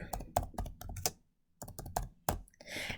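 Typing on a computer keyboard, two bursts of quick, close key clicks with a short pause between them, followed by a softer rustle at the end.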